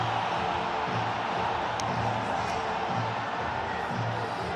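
A large cricket crowd in Pakistan cheers in a continuous, steady roar, broad and far-off, without distinct peaks.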